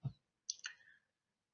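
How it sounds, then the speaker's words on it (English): A computer mouse gives a right-click: one soft, close click, then a brief double tick about half a second later, all quiet and isolated against silence. "Now you can do a right click and then do a copy."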